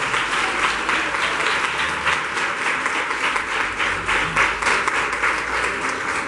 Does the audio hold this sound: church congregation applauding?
yes